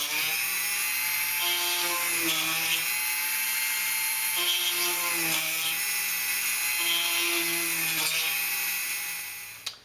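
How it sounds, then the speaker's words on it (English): A small high-pitched drill whines continuously, its pitch dipping briefly several times as it bores holes in a plastic model part, then winds down at the end. "we have all the holes drilled out around the perimeter of this now"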